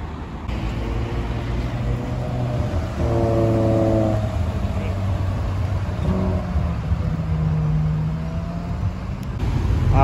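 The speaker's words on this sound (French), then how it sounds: "les deux voitures vont partir" An Aston Martin DB4 Volante and a V8 Vantage Volante pulling away on a Paris street, engines idling then rising in a few revving pulls, fairly close amid city background noise.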